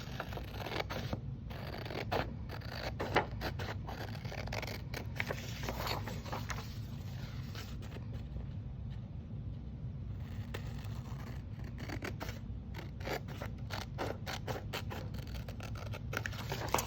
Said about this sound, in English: grab a pair of scissors and you're gonna cut along those 2 lines you just made